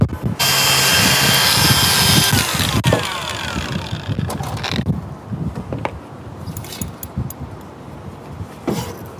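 An angle grinder starts up and cuts through a screw on an air conditioner, a loud close whine for a few seconds, then spinning down into scattered clanks and rattles.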